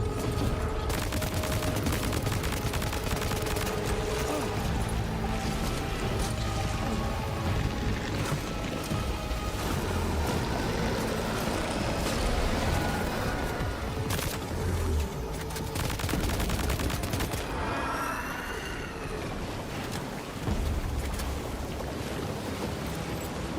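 Rifle gunfire in a video game, a dense stream of rapid shots and crackling bursts over a washing, surf-like background roar that continues for over twenty seconds.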